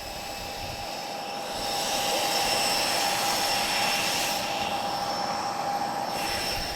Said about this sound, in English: I didn't think we were going to get this close to a live Spitfire.